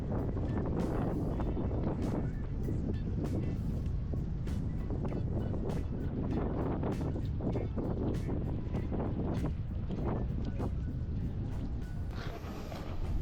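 Strong, cold wind buffets the microphone in a constant low roar, gusting and rumbling without pause during a fixed-gear bike ride; no one speaks.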